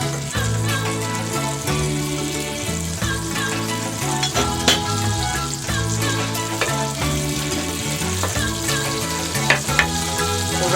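Floured zebra meat sears in a pan with butter and a little oil, giving a steady, close sizzle with occasional sharper crackles throughout.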